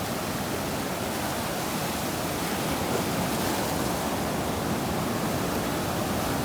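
Ocean waves break over a lagoon reef in a loud, continuous roaring wash of surf that stays steady and close throughout with no voices.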